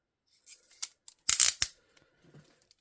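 Handcuffs with a heavy, meaty spring ratcheting in a few quick raspy bursts, a strong clatter in the middle with lighter clicks before and after, close and alone.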